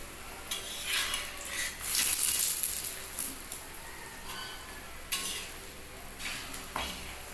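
A stuffed sattu paratha fries in a small amount of oil in a pan, giving a soft, steady sizzle with occasional scraping and clinking of a spatula against the pan, fairly close and without voices.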